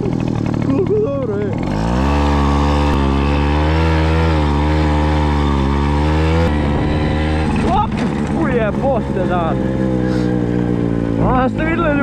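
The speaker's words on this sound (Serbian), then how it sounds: "Kako je opasan motor." A Tomos moped ridden through snow, its small engine droning steadily with harmonic whine and shifting pitch as it revs, close and loud under a man's speech throughout.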